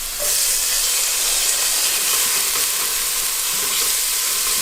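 Tomatoes hit a hot, thick-bottomed pan with garlic in a seafood cooking session, giving a loud, steady sizzle and frying hiss that holds unbroken throughout, with no voices.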